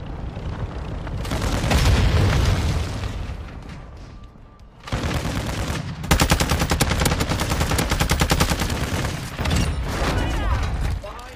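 Heavy gunfire and booming explosions in a video game shooter, with dense automatic bursts and rolling blasts that continue almost without a break, loud and close, under faint game noise.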